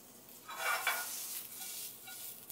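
Diced onion sizzles quietly in a hot pan while making Coca-Cola BBQ sauce, a soft hiss that swells briefly as it is tossed, then settles into a gentle steady crackle.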